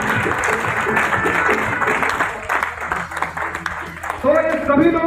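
Loud audience applause rolls through a motivational business seminar hall in India, dense clapping mixed with a voice speaking over it and a bit of crowd noise, ending in sustained talk.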